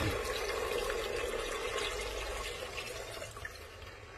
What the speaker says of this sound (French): je vais aller chercher de l'eau, comme ça, en mettre